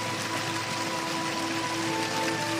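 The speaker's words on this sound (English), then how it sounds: "The sound of the lovely little creek that's just flying past." A small creek in a Tasmanian forest rushes steadily past, a continuous close wash of flowing water with no pauses and no voices.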